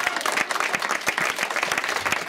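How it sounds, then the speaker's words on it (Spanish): Church congregation applauding loudly during a sermon, a thick burst of many hands clapping with some sharper individual claps standing out, continuous for the whole stretch. "Den un aplauso fuerte al Rey."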